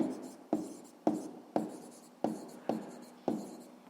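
Pen strokes scratch across paper while a maths calculation is written out, seven sharp repeated taps and scrapes at an even pace, each fading quickly, close and fairly quiet with no talking.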